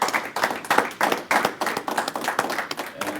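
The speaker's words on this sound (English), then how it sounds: "So I think we need to give him a round of applause for that." An audience at a mental health symposium claps in a burst of applause that lasts throughout, with dense, uneven hand claps.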